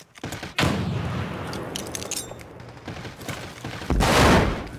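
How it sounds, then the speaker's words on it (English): Frag grenade blast and gunfire in the first-person shooter America's Army, heavy booming explosions near the start and end with rattling shots between, loud and close. "Tossing frag!"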